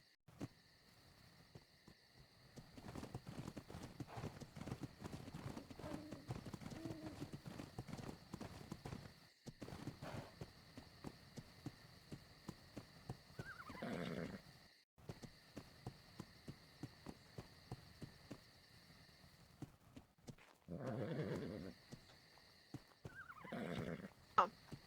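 A horse in the video game Ark: Survival Evolved whinnies twice over steady clip-clopping hooves and a low hum, fairly close and moderately loud.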